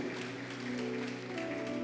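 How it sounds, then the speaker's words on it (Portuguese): Steady applause from a church congregation, many hands clapping together in a dense continuous patter with a faint tonal hum underneath. "Dê um aplauso ao Senhor com uma alegria."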